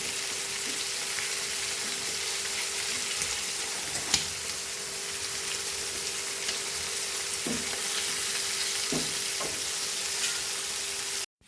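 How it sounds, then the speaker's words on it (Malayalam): Prawns fry in a pan, giving a steady, even sizzle with a few soft clicks and pops, close and alone without any talk. "അങ്ങനെ നമ്മുടെ കൊഞ്ച് ഫ്രൈ റെഡി ആയിരിക്കുന്നു"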